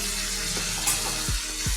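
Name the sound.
sautéing turmeric, chili and cumin in a pan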